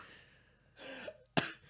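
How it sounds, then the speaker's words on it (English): A person coughs from laughing, with a breathy throat-clearing sound and a rising vocal catch, then one sharp, loud cough close to the microphone. "I'm making myself cough from laughing."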